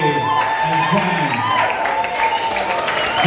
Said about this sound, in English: I want you to give a round of applause to Jeffrey J. AZAN,